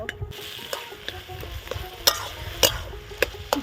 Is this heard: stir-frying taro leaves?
yes